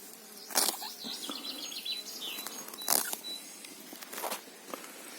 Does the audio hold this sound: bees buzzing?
yes